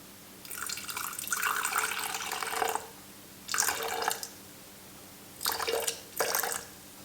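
Water poured from a tap into a sourdough starter jar in several bursts: one long pour of about two seconds, then three shorter splashing pours separated by pauses, close and clear with no talk.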